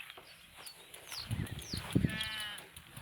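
Sheep or goat bleating outdoors beside a walking trail in Norfolk, a couple of wavering calls from a nearby animal over light wind and faint birdsong.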